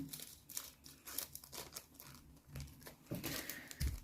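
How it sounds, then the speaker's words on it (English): Nail art transfer foil being cut and handled, soft irregular crinkles and snips, quiet and close, with no talk. "So I'm just going to cut off a bit of the foil."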